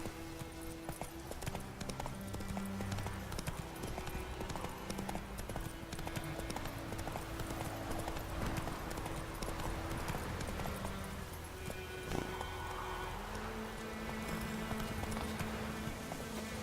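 The horse Roach gallops in The Witcher video game, with steady rhythmic clip-clop hoofbeats running continuously and loudly over a busy game soundscape.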